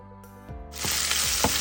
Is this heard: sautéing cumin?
yes